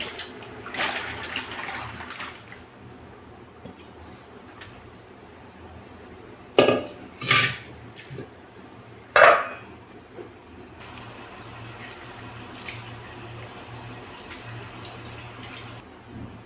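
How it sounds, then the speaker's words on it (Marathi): Potato slices for chips dropped into a pot of boiling water, with a low steady bubbling bed broken by a few sharp splashes and clatters near the middle. "पाण्याला उकळी आली आणि आता हे पण टाकून घेऊ आपण."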